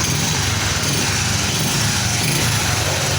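Honda Supra X 125 motorcycle engine running right after starting, a loud, close, buzzing single-cylinder drone that stays steady throughout with no talk.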